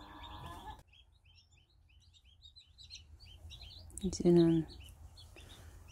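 Newly hatched Araucana chicks give soft, scattered high peeps in a quiet space, with one louder call and a brief murmur of speech.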